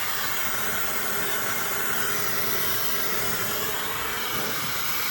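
A warmmama ionic high-speed hair dryer with a 1500 W brushless motor, run without its nozzle to dry freshly washed hair, gives a loud, steady, close rushing hiss of air that holds even throughout.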